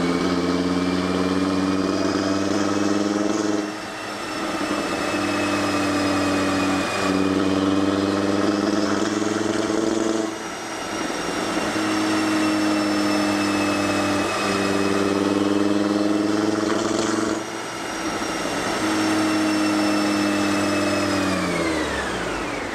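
An Audi TT RS engine on a dyno pull, revving hard in long sustained sweeps with several rising runs and brief dips between them, loud and close, ending in a falling tone as the engine winds down.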